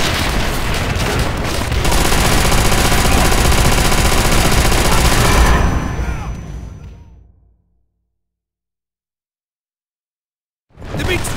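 Heavy machine gun fire in Call of Duty: World at War, a loud dense burst of rapid shots with booms mixed in that runs for several seconds, then fades to silence before another loud burst starts.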